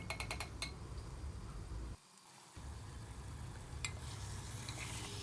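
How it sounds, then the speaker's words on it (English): Steady sizzling of spiced chicken frying on low heat in a pressure cooker, with occasional metallic clinks and scrapes of a utensil stirring, briefly dropping out midway. "we need to keep on stirring the chicken in between"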